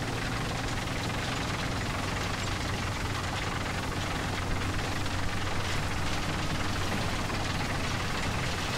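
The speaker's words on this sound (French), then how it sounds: "Non, ça c'est un avion." Steady, droning airplane engine roar in the video game War Thunder runs continuously throughout, loud and unbroken, with a low rumbling hum and no voices.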